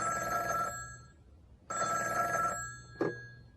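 A telephone bell rings twice in clear bursts with a pause between, followed by a short click, heard alone and fairly close.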